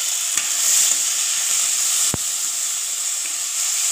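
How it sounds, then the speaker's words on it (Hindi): Chopped tomato hitting hot oil with golden-fried onion in a pan for baingan bharta, a steady close sizzle and hiss with faint stirring scrapes and one sharp clack midway, no voices. "अब इसमें ऐड करेंगे हमारा कटा हुआ टमाटर।"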